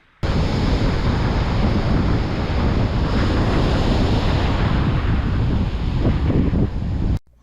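Rough ocean surf on a Long Island beach rolls in a loud, continuous roar mixed with strong wind buffeting the microphone, steady throughout with swells rising late.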